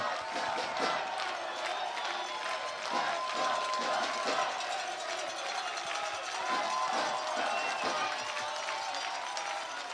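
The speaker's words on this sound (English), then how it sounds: "This crowd's starting to come alive again." Baseball crowd at an FCBL championship game in Nashua, New Hampshire, cheering and clapping steadily in a broad, continuous wash of noise, with scattered shouts and whoops rising through it.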